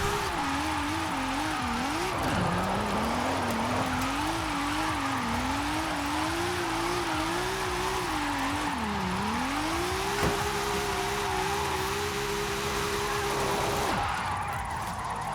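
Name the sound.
car drifting and sliding in Forza Horizon 5 video game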